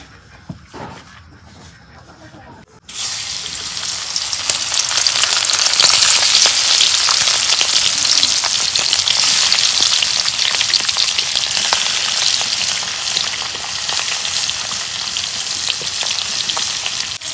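Fish rubbed with spices frying in hot oil in a home kitchen, a dense, loud, steady sizzle that starts abruptly after a few quiet seconds and continues without a break.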